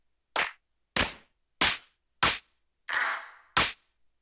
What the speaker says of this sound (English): Bring in a clap.